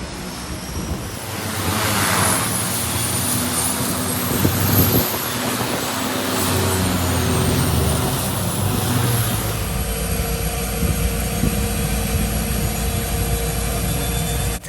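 Loud, steady drone of an aircraft engine during a flight to the Maldives, heard from inside the cabin close to the engine. A constant roaring hum carries throughout with only small shifts in pitch.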